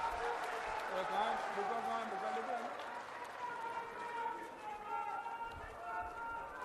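Crowd applause at a BJP rally in Churu, Rajasthan, welcoming Rajendra Rathore, a continuous noisy wash of clapping that stays mostly beneath a loud amplified voice speaking over it.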